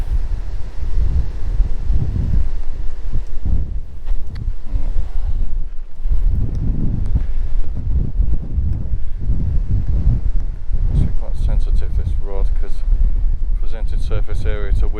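Strong gusting wind buffets the microphone outdoors at the Belas Knap long barrow near Winchcombe, loud and continuous with rustling throughout.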